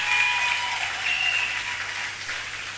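A church congregation applauds a visiting prophet, with a brief wash of steady clapping that fades slightly and has a faint tone ringing above it.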